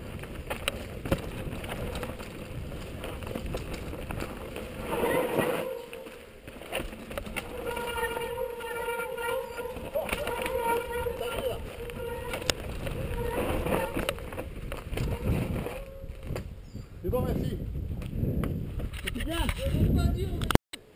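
An outboard-style boat engine hums and buzzes steadily after being started, a droning tone that carries on for a long stretch outdoors, with people calling out over it and a sharp knock near the end.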